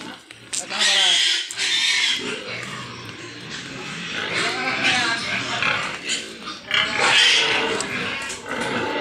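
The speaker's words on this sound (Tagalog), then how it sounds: "ang daming mga piglets" Pigs and many piglets on a farm, with loud repeated grunts and squeals close by, mixed with people talking throughout.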